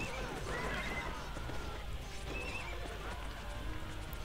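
Horses in the battle strategy game Cossacks 2 neigh and whinny over steady clip-clopping hooves and a dense din of a cavalry division, faint and continuous.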